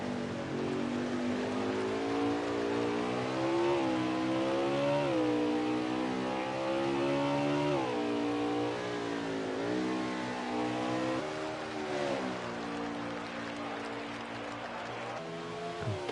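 Race car engines in a sim racing game at Sonoma wail continuously, one loud engine note rising and falling with each upshift and downshift through the corners, others blending underneath.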